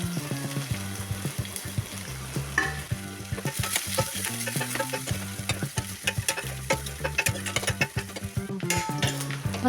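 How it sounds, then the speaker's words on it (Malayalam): Sliced onion sautéing in coconut oil, a continuous close sizzle with frequent scraping stir strokes and clinks against the pan, loud and busy, with no talking. "അപ്പോൾ സവോള എല്ലാം നന്നായിട്ട് വഴന്നു വന്നിട്ടുണ്ട്"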